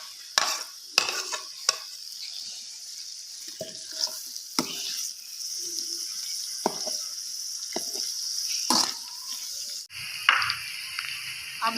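Onions fry in ghee in a pan as the base for a fish curry masala, a soft continuous sizzle broken by scraping stirs and clinks of a spoon against the pan.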